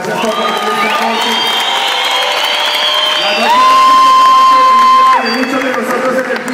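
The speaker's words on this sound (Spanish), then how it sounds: "un aplauso, muchachos" A hip hop event crowd applauds and cheers loudly and steadily, with whoops and a sustained high shout over the clapping, for the whole stretch.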